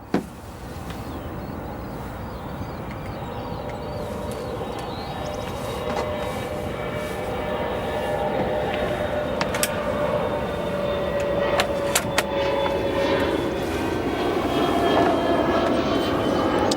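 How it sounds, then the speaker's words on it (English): A Royal Jordanian Boeing 787-8 taxiing onto the runway at O'Hare gives a steady, broad jet roar that slowly builds in loudness, with a few faint clicks over the top. "Our next heavy aircraft departing looks like he's gotten clearance to taxi onto the runway."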